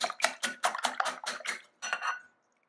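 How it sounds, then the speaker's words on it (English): A whisk beats three eggs in a large mixing bowl, a quick run of about ten rhythmic clattering strokes against the bowl, close and clear, before it stops into silence. "In a large mixing bowl, add your 3 eggs and whisk well."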